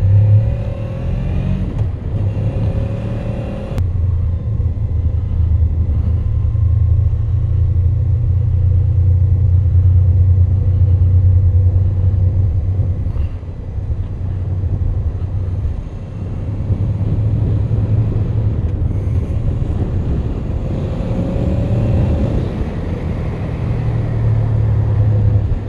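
A Honda VFR800 motorcycle with a snorkel intake mod pulls away, its engine rumbling loud and close with a deep, steady drone and a few rising revs.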